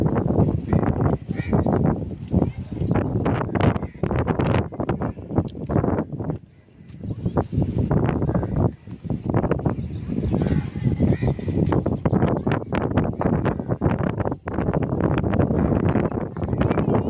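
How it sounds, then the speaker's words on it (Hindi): Strong outdoor wind in a park buffets the microphone in loud, continuous gusty rumbles for the whole stretch, with only a brief lull partway through. "अच्छी हवा चल रही है कि चला तक नहीं जा रहा।"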